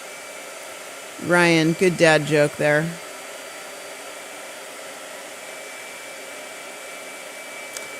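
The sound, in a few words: blow dryer running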